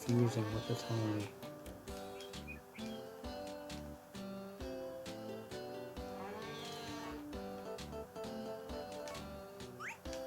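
A cow moos in the farming game Harvest Moon: A Wonderful Life, its low calls mixed with bright game music and someone talking over the top.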